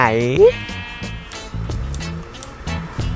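A Minecraft sheep lets out one short, loud bleat at the start, followed by soft game thuds and background sounds.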